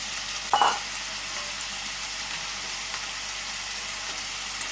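Freshwater snails with turmeric sizzle steadily in a frying pan, with one brief scrape of stirring near the start and a constant hiss throughout, no voices.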